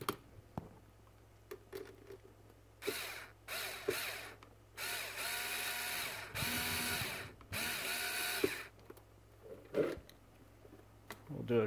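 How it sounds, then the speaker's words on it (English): A power driver drives screws into an arcade joystick control panel in several short bursts, close by, whirring up and stopping between screws. "We'll go ahead and put the screws in."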